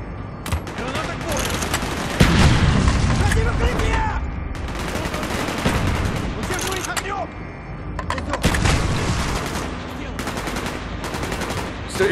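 Dense automatic and rifle gunfire from the Call of Duty: Black Ops campaign at Baikonur, with rapid bursts and sharp cracks running continuously for about twelve seconds, mixed with game sound effects and shouted voices.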